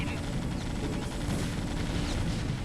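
Terran siege tanks shelling Protoss forces in StarCraft Remastered, a dense, continuous barrage of heavy booming artillery blasts that merge into a loud, rumbling roar from start to finish.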